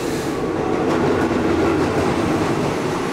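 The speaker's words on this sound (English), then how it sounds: "we're waiting for another train to pass" A train passes on the line near Bangkok heading toward Chachoengsao, a loud, continuous roar of rolling wheels and rattling carriages close by with no let-up.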